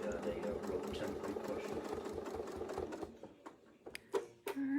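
A sewing machine stitches a quilt border in fast, even rhythmic chatter for about three seconds, then stops, followed by a few light clicks and handling sounds.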